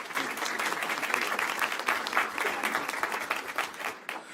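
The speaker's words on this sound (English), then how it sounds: "Please join me in a round of applause." A board meeting audience applauds in a dense, steady round of clapping that fills the room for several seconds and tapers slightly at the end.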